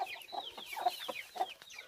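A rooster and a hen of mixed breed, the hen descended from a guan, cluck in a backyard flock. Repeated short clucks come close and clear in an irregular rhythm, with no talking.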